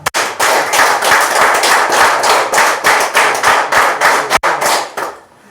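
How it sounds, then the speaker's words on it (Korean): Loud, dense applause from a lecture audience, sustained clapping with rhythmic swells for several seconds before tapering off at the end. "크게 건강을 위해서라도 큰 박수를 한번 쳐주시기 바랍니다"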